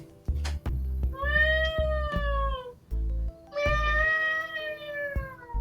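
A cat meows twice, long drawn-out calls, close and clear, with low rumbling handling noise between them.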